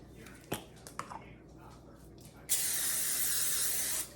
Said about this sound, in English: real quick, let's spray